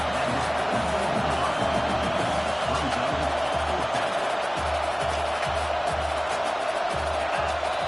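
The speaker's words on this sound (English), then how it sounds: "with this place rocking, the crowd forces a false start" Stadium crowd at a college football game roars in a steady, loud wash of noise, sustained throughout with no break, the whole venue rocking during a third-down play.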